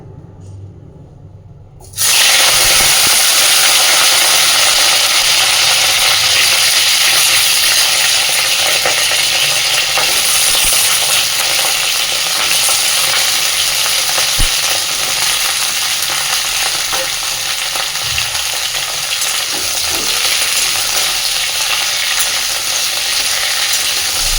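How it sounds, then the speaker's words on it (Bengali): Cauliflower florets and potato pieces frying together in hot oil for a Bengali cauliflower-prawn dish, a loud sizzle bursting in suddenly and then holding steady and close, with faint stirring clinks underneath. "আমি এখানে আলু আর ফুলকপিটা একসাথে করেই ভেজে নিচ্ছি।"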